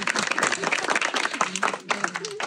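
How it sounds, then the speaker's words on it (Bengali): Villagers clapping together at an outdoor prize game fair, a dense burst of applause from a small crowd with voices chattering over it throughout. "সবাইকে হবে একটা তালি হবে।"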